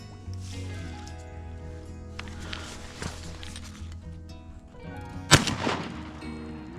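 A sharp, loud shotgun blast cracks out during a Texas duck hunt, with a smaller follow-up report, set against wetland ambience and faint movement sounds.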